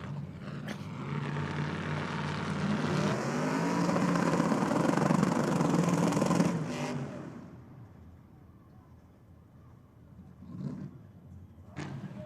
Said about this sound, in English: This man does know how to put on a good skid.